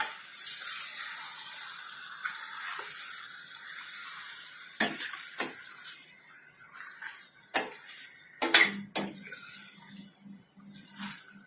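Onion puree being stirred into chicken gravy in a pot, with wet, sloshing scrapes and a few sharper clinks of the spoon against the pan, moderately close, with no talking.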